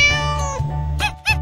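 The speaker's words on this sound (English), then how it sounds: "Cat." A cat meows among cartoon animal sounds, a drawn-out tonal mew followed by two short bright meows, loud and close with no speech.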